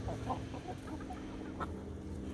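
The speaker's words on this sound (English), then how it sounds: "And all of our big chickens." Several backyard chickens, including large hens, cluck softly and repeatedly at close range over a steady low background hum, with no talk.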